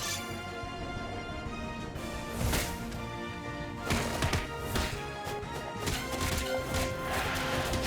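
Rocket punch strikes in the superhero brawler Marvel Cosmic Invasion, several sharp smashing impacts landing over a dense, busy game soundtrack with music and effects, no voices.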